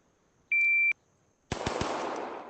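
Gunshots in the VR shooting game ACE VR, preceded by a sharp electronic shot-timer beep, then a quick burst of three close virtual shots with a rolling echoing tail.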